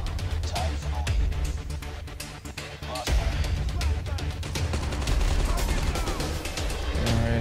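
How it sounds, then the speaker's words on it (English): Call of Duty Mobile gameplay fills with dense, rapid machine gun fire, rattling bursts packed tightly together and loud throughout, with other gunshots layered in. "Ini pakai mesin gun ini."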